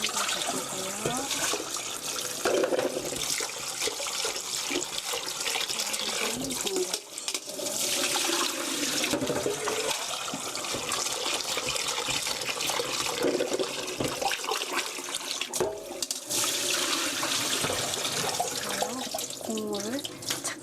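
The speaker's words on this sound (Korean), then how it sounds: "어느 정도 잘 비벼 빨았으면 한번 헹궈주시고요." Tap water runs steadily into a sink while cooked noodles for jajangmyeon are rubbed between the palms and rinsed, a continuous close splashing rush with a brief pause midway and a voice talking over it.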